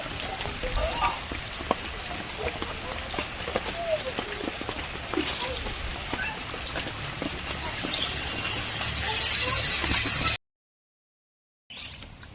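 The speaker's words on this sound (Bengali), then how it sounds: "বৃষ্টি কমে গেছে" Rain falling on a surface as a meal of chicken curry is cooked, a steady patter of drops that swells into a louder rushing downpour before cutting off, with speech now and then.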